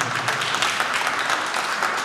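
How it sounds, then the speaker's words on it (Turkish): Audience applause fills a gala hall, a dense, even patter of many hands clapping at once, loud and sustained with no voices on top. "Kocaman bir alkış almak istiyorum ben."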